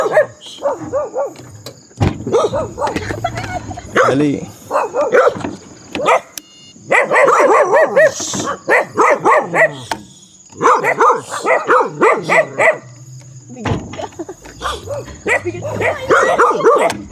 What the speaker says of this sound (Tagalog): Nakasalubong kami ng aso